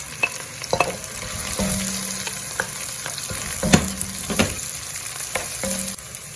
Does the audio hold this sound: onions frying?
yes